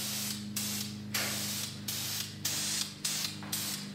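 Spray paint hisses in repeated bursts onto a motorcycle triple tree from about a foot away, each pass a steady broadband hiss of roughly half a second with brief gaps between, close and fairly loud over a low constant hum.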